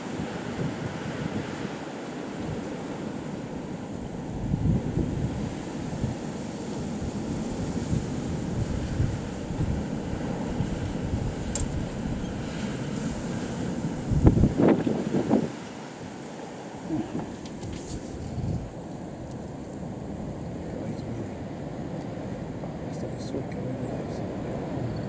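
Britten-Norman Islander aircraft taking off near Cambridge in gale-force winds, its engine drone faint and distant beneath heavy wind buffeting on the microphone, with a brief louder gust surge midway.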